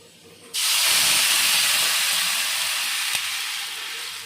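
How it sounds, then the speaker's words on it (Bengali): Water hits a hot pan of fried soybeans, setting off a sudden loud steam hiss after a quiet start that stays strong and slowly fades, with one faint tap near the end. "সয়াবিনটা ভাজা হয়ে গেছে, তখন জল ঢেলে দেবো।"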